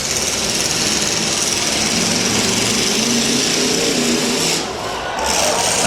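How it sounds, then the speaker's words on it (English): Demolition derby car engine fired back up after stalling, a loud, steady, buzzing roar that runs continuously with only a brief dip near the end, mixed with crowd and arena noise. "The 164, Jeff Helmling's vehicle, is fired back up"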